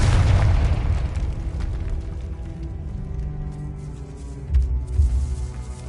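Confringo explosion spell in Hogwarts Legacy, a deep booming blast with a rumbling low tail and a second thud near the end, loud and close with no voices.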